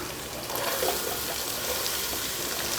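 Curry leaves and spices sauté in hot oil for potato bonda filling, a dense, continuous hiss and sputter close up, alone without talk.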